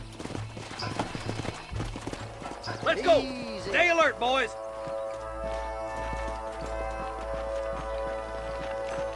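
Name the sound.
horses neighing and hooves clip-clopping in Red Dead Redemption video game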